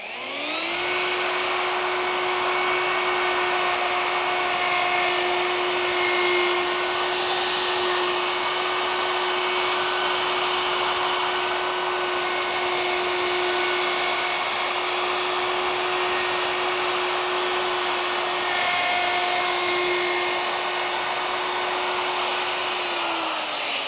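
Router cutting a channel for a carbon fiber rod in a guitar neck, a loud, steady high-pitched whine that spins up quickly and holds unbroken for over twenty seconds.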